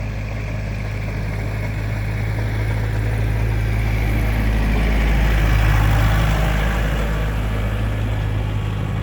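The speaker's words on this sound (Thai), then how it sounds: "นี่คือรถไถนานะครับ ที่ไถนาได้นิดหน่อย เพราะว่าตอนนี้กลายเป็นรถพ่นยาไปแล้ว" Farm tractor now used as a pesticide sprayer idles nearby at home in the morning, its loud, steady low engine rumble droning continuously throughout.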